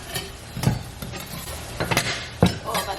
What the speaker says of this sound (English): I got hungry and I started cooking some pot stickers